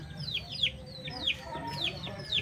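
Shamo chickens cluck in a quick series of short rising calls, several birds close by, steady and moderately quiet over low background noise.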